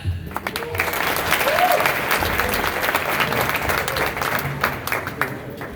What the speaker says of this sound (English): Please join me in showing a Karas HaTayv and a round of applause to the following special individuals